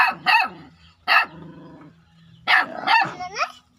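A dog barks close by, a few sharp barks in short bursts with pauses between them and a brief growl in the middle.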